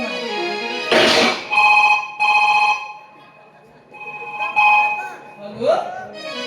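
A telephone rings in a series of bright, repeating electronic bursts, fairly close and loud, with gaps between rings and voices talking in the background.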